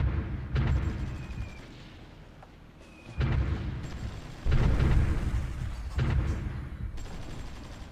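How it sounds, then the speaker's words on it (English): Artillery fire in the strategy war game Supreme Ruler Ultimate, heard as several dull, low booming bursts at irregular intervals over a steady rumbling battle background, moderately loud and with no voices. "it's mostly our artillery firing up on the enemy."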